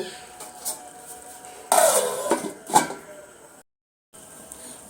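A metal lid is lifted off a cooking pan of greens and prawns simmering on the stove. It makes a sudden clattering scrape with a brief ringing clank, then the sound cuts to silence.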